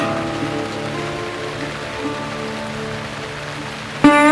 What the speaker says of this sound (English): a steady rain starts to fall